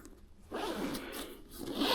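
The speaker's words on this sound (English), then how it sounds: "it's also got a zip on the bottom which allows me" A zipper on the bottom compartment of a large camera bag pulled open in one long, close rasping run, a brief pause, then more zipping at the end.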